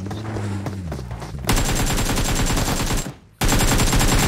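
Gunfire in the mobile battle royale game PUBG Mobile: dense, rapid bursts of automatic shots, loud and close, with a brief drop to near silence before firing resumes.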